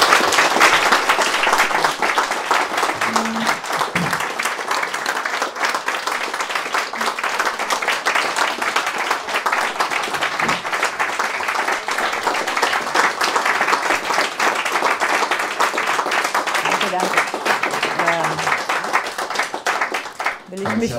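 An audience at a lecture and conversation event applauds loudly and steadily for about twenty seconds, a dense wash of clapping from many hands without letup, tapering slightly at the very end.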